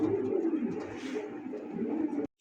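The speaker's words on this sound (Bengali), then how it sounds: "আমার এই মুহূর্তে দেখতে পাচ্ছেন খুবই রেয়ার একটা কবুতর" A pigeon coos near at hand in a steady, throaty rolling murmur that carries on for a couple of seconds before cutting off abruptly.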